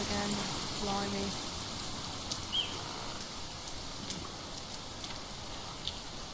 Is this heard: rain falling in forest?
yes